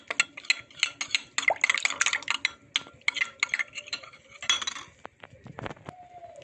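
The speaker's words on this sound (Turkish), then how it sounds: "şöyle bir fincan kadar da suyu koyup karıştırıyoruz" A spoon stirs lemon juice and water in a cup, making quick, close clinks and ticks in rapid bursts against the side, then thinning out into a few scattered taps.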